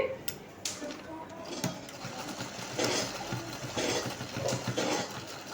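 A sewing machine stitching a school uniform shirt, its needle running in quick rhythmic runs with short pauses, close and fairly quiet, with someone talking over it.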